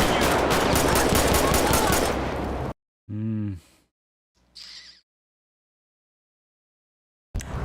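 Rapid automatic gunfire in GTA 5 rattles loud and dense for nearly three seconds, then cuts off, followed by a short burst of a voice and another brief sound amid silence, with loud noise returning at the end.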